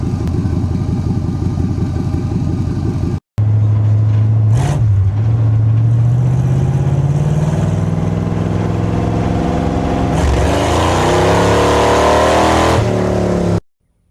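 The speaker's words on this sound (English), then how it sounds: "How do you know this thing has a small block Chevrolet?" Rat rod with a small block Chevrolet V8, loud and close. A rumbling idle cuts out briefly, then the engine restarts and climbs through rising revs before shutting off.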